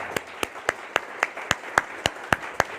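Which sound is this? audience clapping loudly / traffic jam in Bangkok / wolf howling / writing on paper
audience clapping loudly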